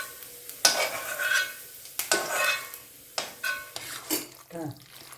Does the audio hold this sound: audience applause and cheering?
no